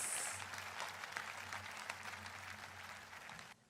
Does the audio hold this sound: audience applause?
yes